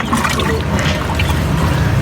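Tamarind water poured over dahi bhalle at a street food stall in Islamabad, a continuous close liquid trickle and splash amid busy, noisy surroundings.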